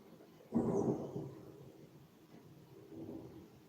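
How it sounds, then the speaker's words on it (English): A thunderclap breaks out suddenly, then fades into a long, low rumbling roll that swells faintly again before dying away. "There is again the thunder."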